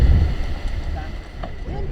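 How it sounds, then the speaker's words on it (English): Wind gusts buffet the microphone on the Schaefer Trail in Canyonlands, a low rumbling roar strongest at the start, with brief faint voice fragments over the blustery noise. "Windy up here."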